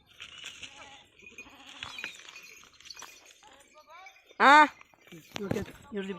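A sheep lets out a loud, wavering bleat amid nearby talking, with a few fainter animal calls around it.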